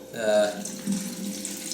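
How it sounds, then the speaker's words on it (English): Lemon juice pours into a pitcher for homemade lemonade, a soft liquid trickle that swells briefly and then tapers off, with faint talking underneath. "So I'm going to take our lemon juice and I'm going to add it to the pitcher."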